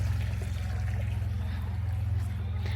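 Clear water trickles and flows at William Hawrelak park in Canada, a continuous close babble over a low steady rumble, with no one speaking.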